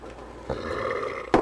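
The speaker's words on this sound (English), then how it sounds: "Belch out." A man lets out a low, drawn-out belch during a night of drinking, rumbling for about a second, followed by a brief louder burst at the end.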